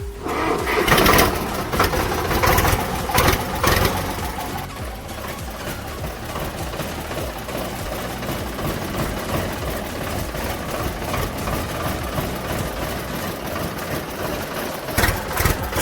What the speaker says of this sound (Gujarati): ફાઇનલી ભાઈનો ટ્રેક્ટર આવી ગયો હાથમાં.